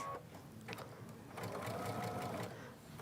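A sewing machine runs steadily, stay stitching a fabric motif during appliqué, its quiet rhythmic needle whir rising slightly in the middle before easing off.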